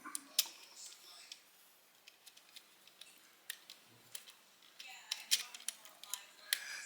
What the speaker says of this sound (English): If you want to grind things down, you can hear the clicking, and you can make it coarse to fine.